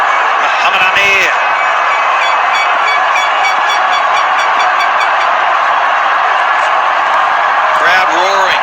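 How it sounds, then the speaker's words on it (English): A dense, steady roar from the stadium crowd at a PSL cricket match between Karachi Kings and Peshawar Zalmi, loud and continuous throughout, with a few brief horn-like blasts near the start and end. "Crowd roaring."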